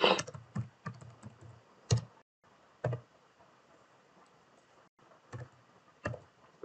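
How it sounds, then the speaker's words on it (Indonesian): Code being typed on a computer keyboard, with close, crisp key clicks arriving in irregular bursts and single taps, separated by short silent pauses. "kita ketikkan array-nya"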